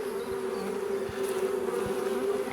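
A dense, steady buzz of many honeybees swarming close by at a small nucleus hive, continuous and fairly loud with no voices.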